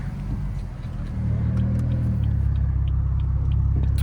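BMW B58 engine fitted with a much bigger intake filter, revving as a deep, loud, steady rumble that swells and holds heavier after the first second or so.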